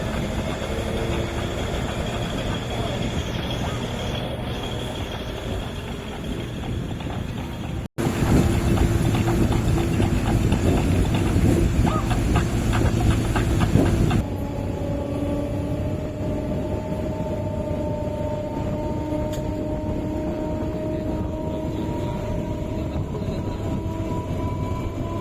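A MEMU train runs with a continuous rumble and clatter, interrupted by a sharp break; the sound then swells louder as another train crosses alongside before settling back into a steadier running hum.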